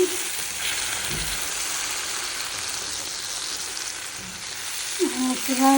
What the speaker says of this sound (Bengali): আমি একটু ভাজা ভাজা করলাম এখানে